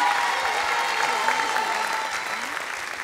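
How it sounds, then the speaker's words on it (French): Studio audience at a French television talent show applauds warmly after a singer's duet with a child, a dense continuous roar of clapping with a faint tone and voices beneath. "vous pouvez applaudir encore très très fort pour ce dernier duo"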